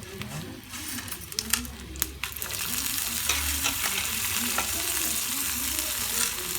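Tamarind, coconut and garlic sauté in a pan with a close, steady sizzle, broken by scraping stirs and a few sharp clinks of a utensil against the metal.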